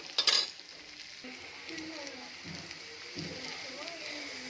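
Onions fry in a pan, browning for an Odia-style prawn masala curry, with a soft steady sizzle and a brief clatter near the start, faint and close, with low speech between the sounds.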